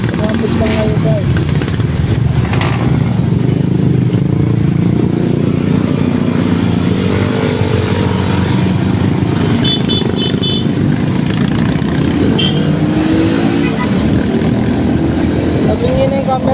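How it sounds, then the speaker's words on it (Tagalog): Slow road traffic with cars and motorcycles in a jam near Dasmariñas, a steady loud engine hum and rumble throughout, with people talking over it. "Traffic lang ngayon guys."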